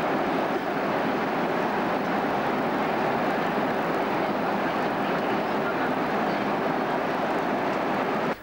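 Airliner arriving at New Delhi airport in 1987, a loud, steady broadband engine roar holding continuously throughout without pause, close and dominant with no voices over it.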